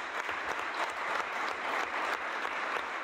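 A crowd at an Italian political gathering claps in support of Filippo Nogarin, a dense, steady round of applause with individual claps standing out, fairly quiet and continuous throughout.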